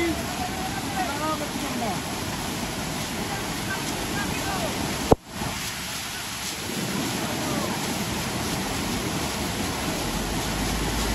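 Sudden waterfall pouring onto a road after rain and a landslide on the Batu Jomba climb, a steady loud broadband wash of water with one sharp thump midway.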